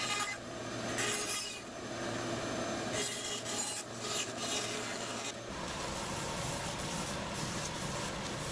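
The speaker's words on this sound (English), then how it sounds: "I have to make some relief cuts." A saw makes relief cuts through glued-up figured maple for a pizza peel, giving a steady raspy rubbing drone across the whole stretch, close and fairly loud, with a brief change in texture midway.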